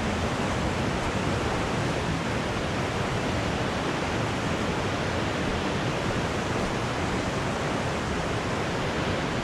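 A very wide, huge waterfall on the Half Dome trail in Yosemite sends up a steady, dense roar of falling water, loud and close, unbroken for the whole stretch with no voices over it.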